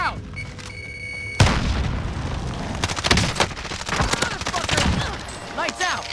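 In Warzone, a frag grenade detonates with a sudden loud boom, followed by scattered bursts of gunfire and crackling debris, while players talk over the action.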